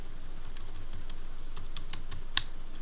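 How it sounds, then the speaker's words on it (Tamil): Fingers type a paragraph on a computer keyboard during a typewriting exam, a fast steady patter of close key clicks with one sharper tap, no talk. "நம்ம ஒரு பேராகிராஃப் டைப் பண்ணுமா"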